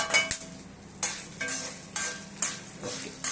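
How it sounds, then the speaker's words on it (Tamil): Curry leaves sauté in a kadai, with rhythmic stirring strokes scraping through a close, crackling sizzle, about six distinct sweeps in quick succession. "அந்த கடாயில் கருவேப்பிலை போட்டு நம்ம கொஞ்ச நேரம் வதக்கிக்கலாம்"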